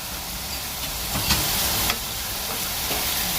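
Butter sizzles and crackles in a hot pan for Nigerian greens vegetable fried rice, a steady hissing fry close by with a couple of brief louder pops, no voices over it.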